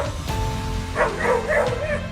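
A dog chasing after an ambulance gives a few yelping, whimpering barks over a steady rumbling background.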